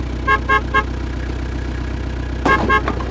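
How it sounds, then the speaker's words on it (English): Cartoon car horn toots for a red car in a toddler colors lesson: three short bright beeps in quick succession, a pause, then three more, loud and close over a steady low hum. "Beep, beep."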